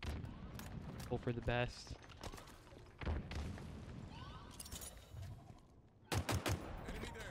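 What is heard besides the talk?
grenade explosion and gunfire in video game Halo Infinite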